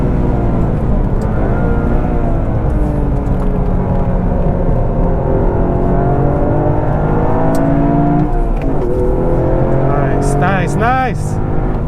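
Toyota GR Yaris with four-wheel drive running a gymkhana course, its engine loud and steady throughout with rising and falling revs through the turns, and a tyre or engine whine near the end.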